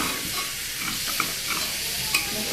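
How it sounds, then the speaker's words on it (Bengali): Lentils (dal) fry lightly in a pan with a steady, soft sizzle, a few faint stirring scrapes breaking through, heard up close with no talking. "একটু হালকা ভেজে নিচ্ছি, ডালের কালারটা যাতে চেঞ্জ"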